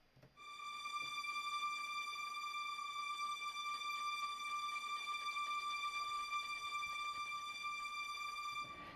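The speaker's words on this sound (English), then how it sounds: "here I've got tremolando violins because I've got a string library from the BBC Symphony Orchestra" Sampled BBC Symphony Orchestra violins bowing a tremolando, a continuous shimmering sustained tone held evenly for several seconds at a soft, steady level.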